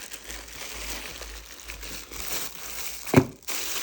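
A package from China holding a helmet-like item is being opened, with soft plastic crinkling throughout and a sharp louder crunch of wrapping near the end, no one speaking.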